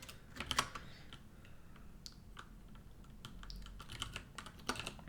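Typing on a computer keyboard during a C programming session, with quiet, irregular clicking keystrokes in short bursts, close and faint, with no talk.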